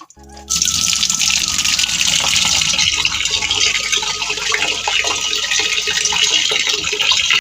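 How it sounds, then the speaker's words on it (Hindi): Water gushes steadily from a tap into a bowl while food is washed in a home kitchen, a loud continuous splashing and filling sound that runs almost unbroken after a brief start. "देखिए पानी गिरा दिया है, आप और पानी डाल रहे हैं इसमें"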